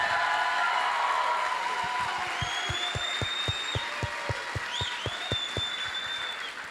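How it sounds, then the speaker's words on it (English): A crowd gives sustained applause for an 8th grade graduating class of 2025 in a school ceremony, a steady wash of clapping with some whistles and cheers rising over it as the ovation continues. "let's give them one more giant round of applause"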